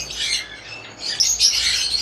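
Forpus parrotlets kept as pet birds give a few close, high, thin chirps in two quick bursts, bright and squeaky, with no talk.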